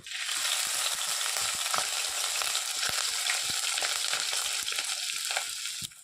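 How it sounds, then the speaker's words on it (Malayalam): Ginger and garlic sizzle steadily in hot coconut oil in a pan, a dense, continuous crackling fry with scattered sharp pops throughout, close and fairly loud, no talking. "നല്ല വെളിച്ചെണ്ണ തിളച്ച് വന്നിട്ടുണ്ട് ചൂടായി നല്ല ചൂടായി വന്നിട്ടുണ്ട് അതിലേക്ക് ഇഞ്ചിയും വെളുത്തുള്ളി ഇട്ട് കൊടുക്കാം"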